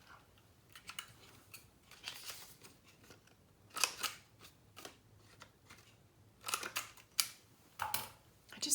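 Scissors snipping paper for a handmade mini album, a series of crisp short cuts in irregular bursts, close and fairly quiet.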